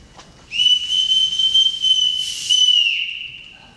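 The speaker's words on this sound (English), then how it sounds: "Everyone in this house answers to a whistle." A single sharp whistle blown to summon children in a house, a clear steady high tone held for about two and a half seconds with a brief dip and a second push near the end, loud and alone.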